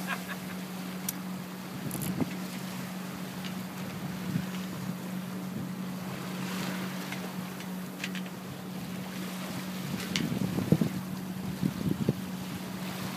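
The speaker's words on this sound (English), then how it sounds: "Pretty good, pretty strong wind though." Strong wind buffets the microphone aboard a sailboat moving at about eight knots through whitecapped water, a continuous gusty rush with a steady hum and occasional louder splashing surges.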